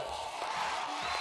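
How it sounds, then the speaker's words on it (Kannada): Audience applause and cheering at a stand-up comedy show, a dense steady crowd roar lasting about a second with no pause. "ಒಳ್ಳೆ ಚಪ್ಪಾಳೆ"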